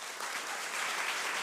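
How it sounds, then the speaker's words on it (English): Audience applause during a public conversation event, a dense wash of clapping heard faintly from a distance, steady and brief. "that deserves an applause."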